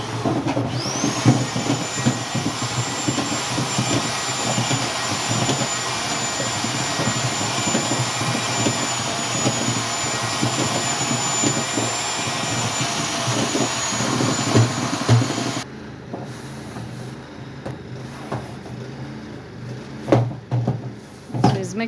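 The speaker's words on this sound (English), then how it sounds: "He's mixing cement" A mixer churns cement for aircrete outdoors at an off-grid site with a loud, steady whine and roar that cuts out abruptly after about fifteen seconds, leaving quieter background clatter.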